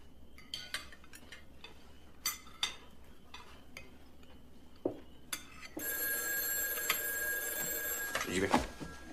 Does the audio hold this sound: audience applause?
no